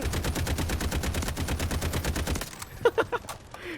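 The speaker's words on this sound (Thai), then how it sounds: "ยิงกดเพื่อแหวกทางให้ตัวเองนะครับ" Gunfire in Delta Force: Hawk Ops, a fast sustained automatic burst of rapid regular shots lasting over two seconds, followed by a few scattered separate shots and clicks.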